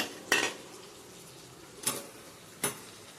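A utensil knocks and clinks against a bowl three times while fried loach fish is served, each sharp tap separated by quiet pauses.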